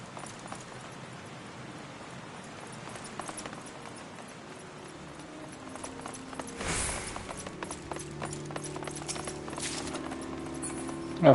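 Horse hooves clip-clop in the video game Final Fantasy XIV, a steady rhythmic patter under ambient game sounds and music, growing more prominent midway through.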